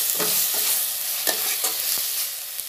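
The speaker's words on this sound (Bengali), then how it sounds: "এগুলোকে ভালো করে মিশিয়ে নেব।" Spices with garam masala frying in a pan, a constant close hiss with several short scraping strokes as they are stirred together.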